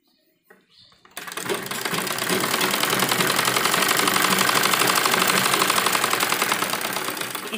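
Sewing machine stitching along the edge of fabric for a child's jhabla dress, starting after a second of near silence and then running continuously with a steady, close, rapid mechanical whir and clatter.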